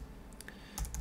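Light typing on a computer keyboard, a handful of soft close keystrokes clicking in quick succession over a faint background.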